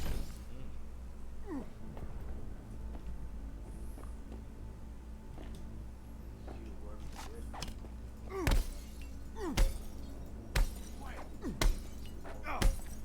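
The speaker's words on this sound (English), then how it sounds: "They didn't hear me break the glass" Glass shattering and breaking in Cyberpunk 2077, a run of sharp crashes and cracks toward the end, fairly close, over a low steady ambient hum of the game world.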